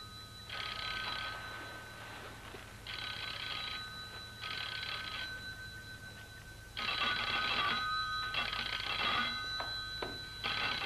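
An old-style telephone bell rings in a 1978 BBC radio ghost story, sounding in repeated bursts separated by short silences over a faint low hum, with no one speaking.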